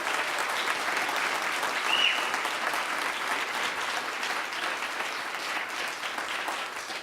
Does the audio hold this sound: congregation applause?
yes